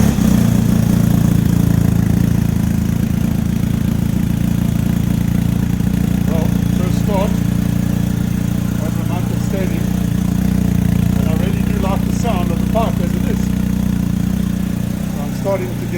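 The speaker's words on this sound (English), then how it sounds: "Let's go to this side and start the bike, and let's have a before and after situation." A BMW R1250GS Adventure motorcycle fitted with an Akrapovic slip-on exhaust idles steadily nearby, a loud, even low rumble throughout with a person speaking over it.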